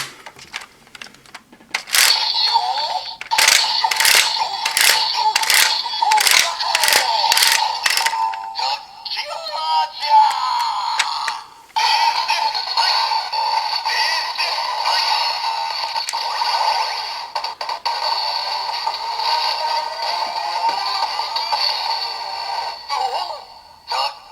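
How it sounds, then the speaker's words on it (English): A Don Blaster toy from Avataro Sentai Donbrothers plays a burst of rapid electronic beeps followed by a long, tinny electronic jingle, loud and close, with a voice mixed into the toy's sounds. "So there we get the combination sound for ToQ Momotaro"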